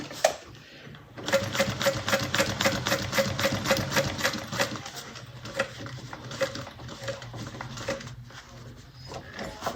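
A sewing machine stitches a bag with a zipper in a fast, even run of needle strokes for several seconds, then slows into a few scattered stitches, close and clear with no talking.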